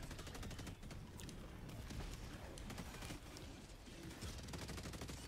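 Dense rapid gunfire rattles in a chaotic video game firefight against robots, a continuous fusillade of sharp overlapping shots close and loud throughout.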